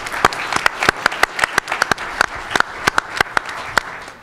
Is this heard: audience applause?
yes